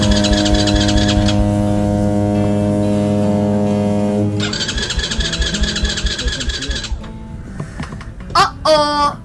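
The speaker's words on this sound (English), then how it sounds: "Uh-oh, the bike's not starting." A Venom X20 mini bike engine cranks but fails to catch, with a rhythmic pulsing starter churn, a steady tonal whine and brief mechanical rattles, and a voice near the end.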